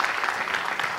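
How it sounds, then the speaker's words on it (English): Audience applause at a Sri Rama Katha gathering, a brief burst of steady clapping from a crowd, moderately distant. "I would just like to have one big round of applause for Radharaman Prabhu."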